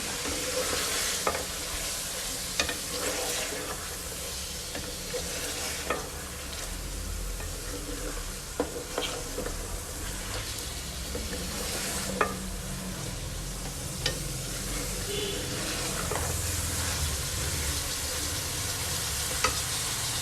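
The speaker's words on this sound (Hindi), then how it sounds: "तेल में चिकन फ्राई हो रहा है," Chicken frying in oil with ginger garlic paste in a karahi, a steady close sizzle under repeated clinks and scrapes of a stirring spoon.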